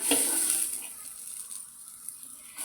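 Pigeon pea beans dry-roasting in a pan: a steady, bright hiss of sizzling, with soft stirring scrapes near the start and end, close by and with no voices.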